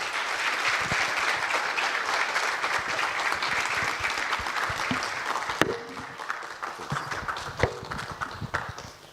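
A large audience in an event hall applauds steadily for several seconds to welcome Professor PLO Lumumba to the stage at an alumni homecoming and anniversary celebration, then the clapping thins into scattered claps.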